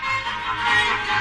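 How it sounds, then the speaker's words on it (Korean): Silk thread strung through a paper cup is scraped in a street performance, giving a sustained, buzzing, raspy string tone, brief and steady at moderate loudness. "명주실을 긁으니 이런 소리가 납니다."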